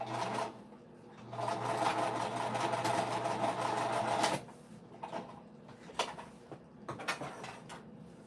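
A sewing machine stitches slowly and carefully through a bulky winter crescent bag, giving a steady close whir for about four seconds. It then stops, leaving quieter handling clicks and taps.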